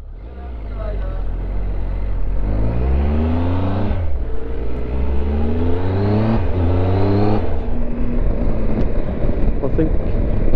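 A motorcycle ridden through the Alps on leaving Bellinzona, Switzerland, revs loudly up through the gears, its engine pitch climbing and dropping at each shift, close and dominant throughout.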